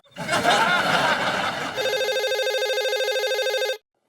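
Voices and soft laughter give way to an electronic landline telephone ring that trills steadily for about two seconds, then cuts off abruptly.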